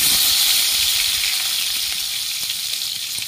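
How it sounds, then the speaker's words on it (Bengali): Pointed gourd (potol) pieces fry in hot oil in a wok, a loud, close, broad hissing sizzle that holds steady and fades slightly toward the end. "পটলগুলো আমি ভেজে নিচ্ছি।"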